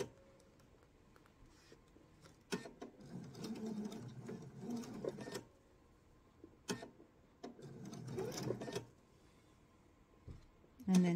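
A sewing machine stitches around a corner of an eyeglasses case in short bursts, slowing and pausing between runs of rapid, close stitching, with brief quiet gaps and a light click at the end.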